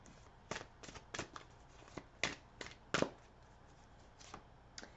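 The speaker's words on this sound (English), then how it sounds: "now we'll pull cards for the last row here" Tarot cards being pulled from a deck and handled, a series of short crisp card slaps and flicks, some in quick pairs, close and fairly quiet with no talking.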